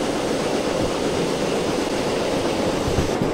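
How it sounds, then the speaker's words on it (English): 800-ton steam locomotive train in the Derail Valley simulator, a loud, dense, continuous rumble and chuffing roar with no clear individual beats and no talking. "I can definitely hear the locomotive slowing down"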